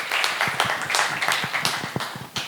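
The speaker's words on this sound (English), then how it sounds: "Round of applause for Gautam and Manoj." Audience applause for two speakers, Gautam and Manoj, at a tech conference: a steady crowd clapping with sharp individual claps standing out, fairly loud and continuous for a couple of seconds.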